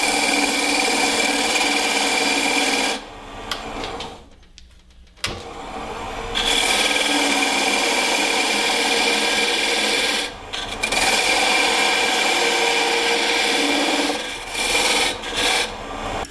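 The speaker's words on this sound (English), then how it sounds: "I'm just going to true up the face. And then cut my tenon." Wood spinning on a lathe as a turning tool trues the face and cuts a tenon for a pepper mill blank, a loud continuous scraping hiss that drops out briefly a few times between cuts.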